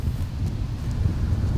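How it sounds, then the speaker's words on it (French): Wind blowing across a golf course, a steady low rushing buffet on the microphone through the whole moment, with no voices. "Ouais, avec le vent qu'il fait là."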